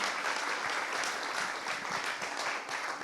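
A lecture audience gives steady, full-room applause, a dense wash of many hands clapping without pause for about three seconds, with no voices on top.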